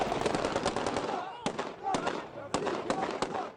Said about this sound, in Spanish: Con ráfagas de disparos al aire, soldados del ejército sirio celebraron